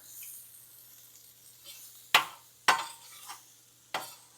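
Onions and jalapenos cooking in a pan on a grill, a faint low sizzle under several sharp, separate scrapes and clinks of a utensil stirring them.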